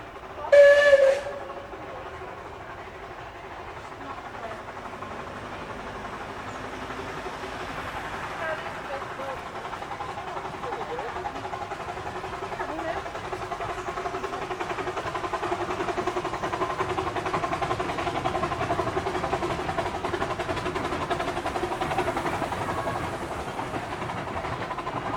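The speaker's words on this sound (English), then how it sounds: "as Alice heads around the circuit with the Tragonian as she passes Trago Central Junction." A miniature railway steam locomotive, the Tragonian, circling the track at Trago Woods past Trago Central Junction: a short whistle blast opens, then a steady hissing, chuffing run carries on at moderate loudness.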